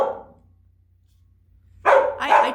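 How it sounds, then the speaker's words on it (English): A dog barks near a police officer who has stepped out of his car: one short bark at the start, a pause of near silence, then two loud close barks in quick succession. "She's barking at the police officer who's out of his car."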